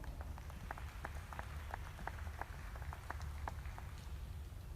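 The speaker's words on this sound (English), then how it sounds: "please give all the exhibitors a big round of applause." Scattered applause from an audience honoring exhibitors at a heifer show in the New Holland Arena, faint and distant, with sparse claps over a steady low hum of the hall.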